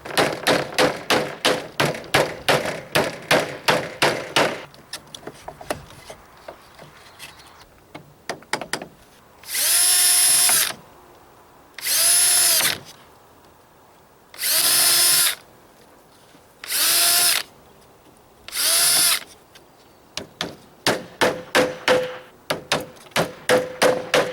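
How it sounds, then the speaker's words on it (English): A power drill works through wooden lattice panel strips, with rapid trigger-pulse bursts at the start and end and five longer, steady whining drill runs in the middle separated by short pauses. "I drill every one."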